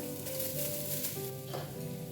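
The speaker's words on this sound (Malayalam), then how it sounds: "ഇനി നന്നായി കൈയെടുക്കാതെ ഒന്ന് വറുത്തെടുക്കണം." Ground coconut fries in hot oil for a Kerala-style fish curry, giving a steady, close sizzle with light stirring throughout; no one speaks.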